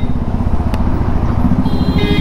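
A new motorcycle rides along in fourth gear with a steady, loud engine drone up close. A brief higher whine and some road noise come in near the end.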